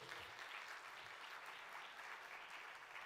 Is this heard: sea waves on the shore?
no